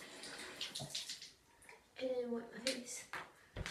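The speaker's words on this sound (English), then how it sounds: "I'm just going to turn on the tap." Water runs from a household tap in bursts, splashing and gurgling close by, with a brief voice and a few clicks and knocks between the gushes.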